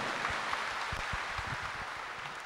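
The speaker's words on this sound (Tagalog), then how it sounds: "Isa pa nga pong palakpak para sa ating Panginoon." Church congregation applauding during a Catholic Mass homily, a steady broad wash of many hands clapping throughout with no voices over it.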